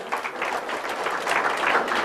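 Applause from an audience of at least fifty people at a seminar, a steady wash of many hands clapping that holds at an even, fairly loud level throughout with no talking.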